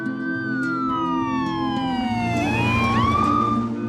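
An ambulance siren wails loudly and close, its pitch sweeping down then jumping back up, over a steady low engine rumble with no talking.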